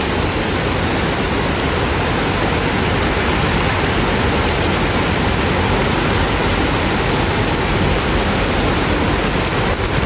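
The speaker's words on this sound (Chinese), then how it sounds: "我原本以为今天是不会下雨的，谁知道它下雨了" Heavy rain pours down on a street in Guangzhou, a loud, unbroken wash of hissing water that holds steady and close throughout.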